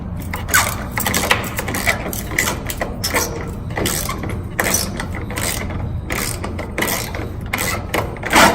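A ratchet clicks steadily while backing out the front fender bolts on a 2006-2010 Dodge Charger, a fast continuous run of close, loud pawl ticks with small bursts of louder cranking, and no talking.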